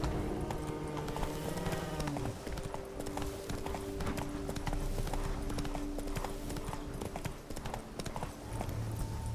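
Geralt's horse Roach gallops in The Witcher 3: Blood and Wine, steady rhythmic hoof clip-clop running throughout at close range over droning music and game ambience, with a brief low voice.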